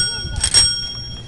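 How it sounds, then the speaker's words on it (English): A bicycle bell at an outdoor expo gives a quick bright double ring, close and clear, then fades over outdoor background noise; people are talking nearby. "And a bell to like signal people"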